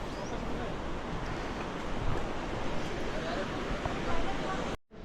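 River water rushes at the Arkavathi–Kaveri confluence at Mekedatu in the rainy season, throwing up fog-like spray. A loud, steady broadband roar mixes with wind buffeting and cuts off abruptly near the end.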